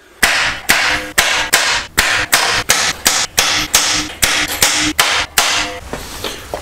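A hammer taps metal roughly a dozen times in a steady rhythm on the spot welds of a wrecked Nissan Skyline R32, each strike sharp and ringing briefly, close by and loud.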